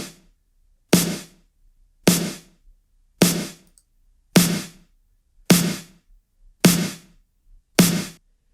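A synthwave snare drum sample with EQ applied, seven evenly spaced sharp hits about a second apart, each a crisp crack with a short decaying tail, close and alone.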